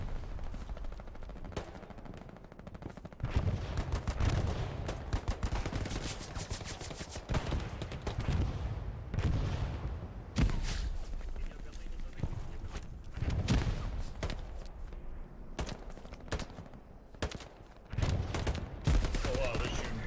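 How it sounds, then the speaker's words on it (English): Gunfire in the Hell Let Loose video game during a competitive match: repeated rifle shots and rattling machine-gun bursts, some sharp and close, others more distant, arriving in irregular clusters with brief quieter gaps. "Oh wow, they're shooting."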